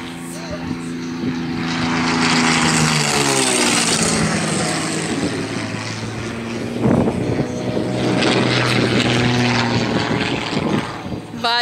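A small propeller airplane drones overhead, its engine note rising and shifting in pitch as it passes fairly close and loud, while people talk nearby.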